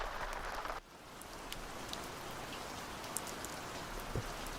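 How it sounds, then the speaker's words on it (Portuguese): Raindrops patter steadily on a tent at night, a dense continuous hiss with scattered sharper individual drop taps, close and fairly quiet. "o som das gotas batendo na tenda."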